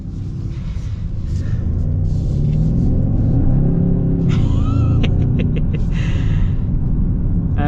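A 2025 Hyundai Sonata N-Line accelerating hard, its engine rumble swelling into a loud sustained roar heard from inside the cabin, with brief tonal whines and rattles and no talk.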